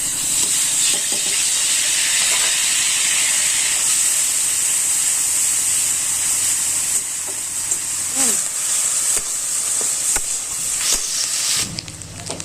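Grated onion sizzles in hot mustard oil in a wok, giving a steady, close frying hiss with occasional stirring scrapes.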